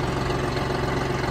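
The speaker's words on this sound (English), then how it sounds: "I got the tractor running, warming up." A tractor engine idles while warming up before spreading gravel, giving a steady, even, low mechanical drone with a regular throb and no revving.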